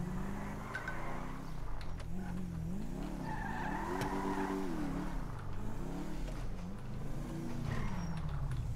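A car driven in Grand Theft Auto V, its engine revving up and down in repeated swells with brief tire squeals and skids, loud and continuous throughout.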